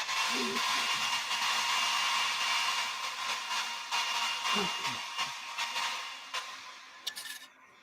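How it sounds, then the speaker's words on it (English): A handheld blow dryer runs steadily at close range for several seconds while sealing something, its broad airy roar holding constant before easing off toward the end, with faint handling noises beneath. "I'll hit this with a blow dryer."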